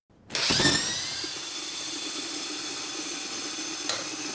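Water pours steadily from a tap in a loud, continuous hiss with a whining, drill-like mechanical tone, a brief clunk near the end.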